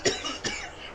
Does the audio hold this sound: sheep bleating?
no